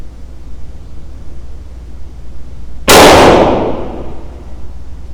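A single loud Sig P322 pistol shot cracks out, sharp and close, its echo trailing off over about a second against a quiet outdoor background.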